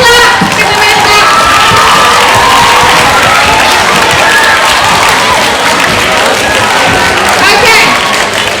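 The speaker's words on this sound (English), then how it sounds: "Give them a big clap." At a school talent show, a loud crowd of children cheers, shouts and applauds continuously in a large hall, a dense sustained roar of voices and clapping heard up close.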